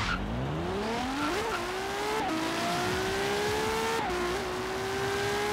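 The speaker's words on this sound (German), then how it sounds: "das Ding beschleunigt natürlich übertrieben stark" In the racing game Forza Horizon 3, a LaFerrari engine climbs steadily in pitch, pausing briefly for quick gear shifts before rising again. The sound is continuous and loud, with a faint tire squeal.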